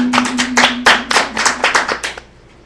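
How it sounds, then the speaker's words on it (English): A church congregation claps hands in praise, about a dozen sharp, close claps in a quick uneven rhythm that stop abruptly, with a low steady tone underneath. "give your Heavenly Father a hand clap of"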